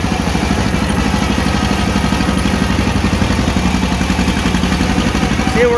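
A John Deere 40 tractor grades a gravel driveway, its engine chugging loud and close with a fast, even putter and some clatter throughout.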